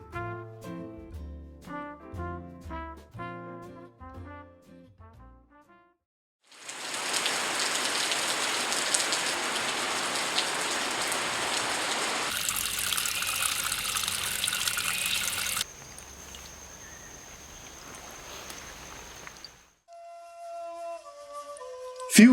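Heavy monsoon rain pours down steadily in a loud, dense hiss after a musical opening, with the downpour's texture shifting partway through before easing toward the end.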